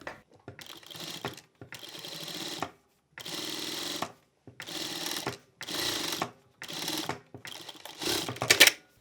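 A sewing machine stitches the side seams of a hoodie in repeated runs of a few seconds each, a steady mechanical whir separated by brief pauses, close and loud.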